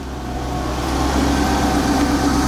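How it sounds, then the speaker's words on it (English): Volkswagen Passat W8 4.0L engine running steadily as the car is driven slowly into a workshop, a loud, even low hum that swells slightly partway through, with no talking. "We're just pulling the W8 in"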